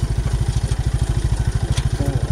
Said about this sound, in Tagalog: kaya ingay na makina nito eh